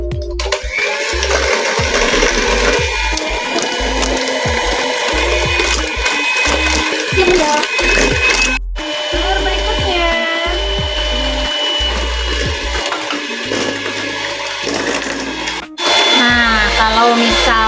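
Electric mixer beating eggs into cake batter whirs steadily and loudly for the whole stretch, its pitch wavering as the beaters move through the bowl, with a brief dip in the drone near the end.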